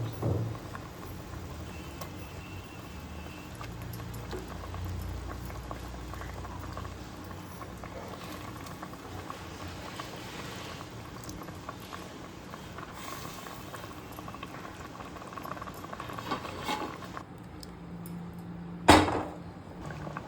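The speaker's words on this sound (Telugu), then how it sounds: "మరుగుతున్న పులుసులో ఈ తలకాయ ముక్కలు వేసేయాలి." Broth with goat head pieces and tomato simmers at a steady rolling boil, a continuous low bubbling wash throughout, with one sharp clink near the end.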